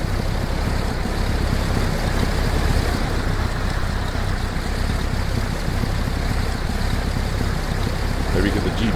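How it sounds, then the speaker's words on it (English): A semi truck's engine idles and rumbles steadily in American Truck Simulator, a loud continuous low drone with no break, parked in North Carolina with the driver out of the cab. "Just so we can hear the engine going again."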